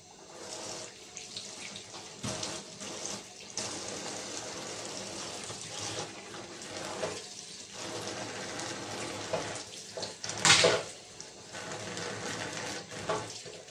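Bhola fish is rinsed under a steady stream of tap water in a sink, a continuous close splashing wash with brief louder gushes as the scaly fish is handled.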